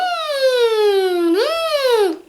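A beatboxer imitates a siren with the voice, a smooth falling wail that dips, then swoops up and down again, loud and close.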